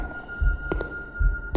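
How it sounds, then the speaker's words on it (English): Heartbeat thuds pulse in the horror game Toilet Escape, two pairs of low, close double beats over a steady electronic hum. "I can hear the heart beating"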